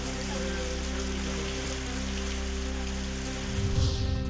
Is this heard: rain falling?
yes